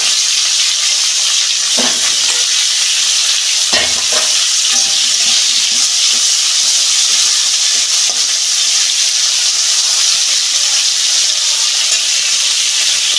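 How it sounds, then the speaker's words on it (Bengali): Bitter gourd frying in hot oil in a wok gives a loud, steady sizzle and hiss, broken by a few clanks as it is stirred, with no voices. "কড়ায় তেল দিচ্ছি উচ্ছেটা ভাজবো আমি ভেজে নেব"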